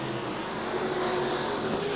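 Sprint cars and V8 dirt modifieds roaring around Archerfield Speedway, a steady distant engine drone filling the track without any single car standing out.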